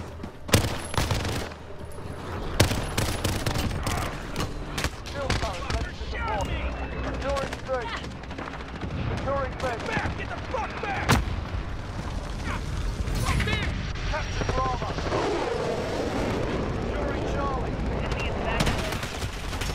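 Dense, loud gunfire in Call of Duty Modern Warfare, with rapid automatic bursts and single shots cracking throughout, mixed with game voices and a player talking over the action.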